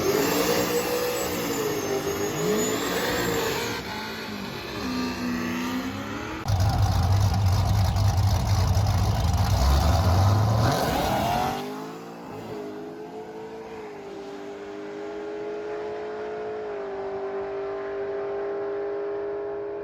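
Supercharged TorqStorm G8 drag car launching hard at a Streetcar Takeover event in Indy, a loud engine roar surging with shifting pitch before cutting off and fading into distant engine drone.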